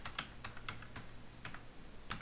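Computer keyboard typing in short irregular clusters of close, crisp keystrokes, as a text label reading district is entered on a form, with a steady low hum underneath and no voices.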